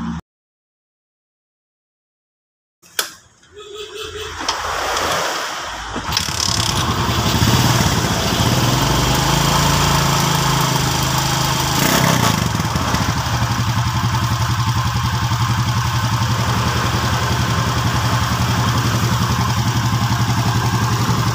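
A motorcycle engine, worked on for its ignition wiring, turns over after a short silence, catches and settles into a steady, loud idle with a low, even drone and mechanical clatter that keeps running throughout.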